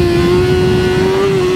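A BMW M1000R motorcycle accelerates hard through a bend, its engine a loud, steady, close-up high-pitched drone that holds one sustained tone with no voices.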